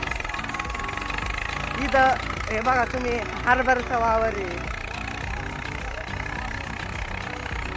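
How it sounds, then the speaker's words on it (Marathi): A tractor ploughing a chickpea field runs with a steady mid-pitched engine drone throughout, while someone talks over it. "चाललंय माघारी ट्रॅक्टर."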